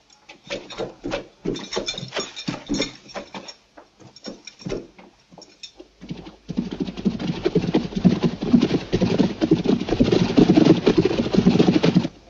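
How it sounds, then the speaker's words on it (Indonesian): Horses being led away on foot, their hooves clip-clopping in an uneven run of knocks, followed by a denser rumbling clatter of more hooves and movement that grows steadier and louder. "bawa kuda-kuda ke belakang dan kasih makan secukupnya."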